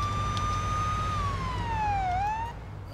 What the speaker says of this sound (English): let's go ahead and hit the siren